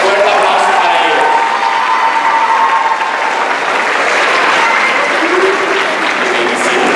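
Sustained, loud audience applause fills a graduation ceremony hall for the PUC CCMS Class of 2017, with steady dense clapping from a large crowd throughout and faint voices mixed in.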